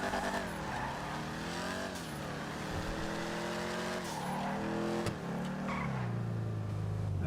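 A sports car engine in the video game GTA Online revs hard and climbs through gears, pitch rising and dropping with each shift, loud and continuous, with brief tire squeal.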